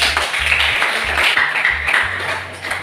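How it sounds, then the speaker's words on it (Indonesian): Classroom clapping by students at the start of a lesson, quick rhythmic claps over low musical tones, loud and close throughout. "tepuk tangan untuk kita"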